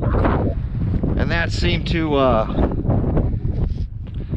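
Gusty wind buffets the microphone outdoors at a radio-controlled car jump spot, a constant low rumble running under a man's speech.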